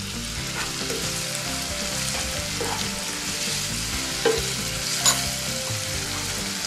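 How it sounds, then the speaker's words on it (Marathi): Spices such as turmeric, red chili powder and coriander powder stirred into frying toor dal, a steady close sizzle with soft stirring scrapes and two brief louder clinks near the end. "याला व्यवस्थित आपण मिक्स करून घेऊयात"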